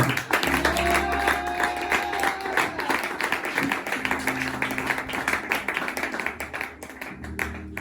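A church congregation at a seminar claps and applauds to acclaim Jesus, a steady dense patter of many hands that fades and thins toward the end.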